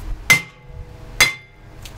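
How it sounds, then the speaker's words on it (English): Two sharp metallic hammer strikes on a car brake caliper ring out about a second apart, each with a brief bright ringing tone, close and loud. "Grab a hammer."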